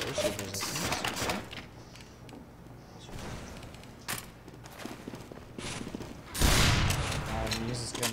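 Gun in a video game firing in bursts of rapid shots, with a loud close volley near the end, mixed with footsteps and other game sounds at moderate level.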